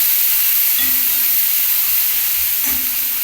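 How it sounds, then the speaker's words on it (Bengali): Potato curry with ginger and onion sautéing in a pan gives a steady, close, loud sizzle and frying hiss that continues with no talking. "দিয়ে দিচ্ছি এটাকে কষানোর জন্য একটু রাখতে হবে"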